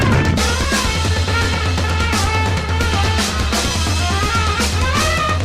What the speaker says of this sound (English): The Parish also had a different music theme for when hordes were summoned by the AI director.